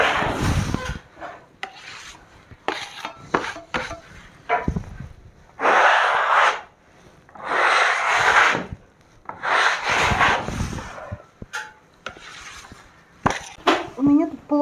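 A curved spatula with a 100 by 120 blade spreading and scraping putty across a ceiling, heard as repeated close rasping strokes in bursts, interspersed with someone talking.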